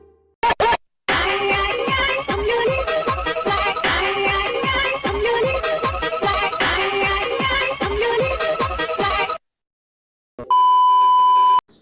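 A cartoon alarm clock rings continuously and loudly for several seconds with a dense, rapid rattling beep, stops abruptly, then a steady electronic tone sounds alone near the end.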